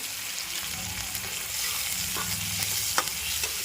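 Asafoetida and turmeric fry in hot oil over a medium gas flame, a soft, steady sizzle with the scrape and clatter of stirring and a sharp tap near the end, no talking.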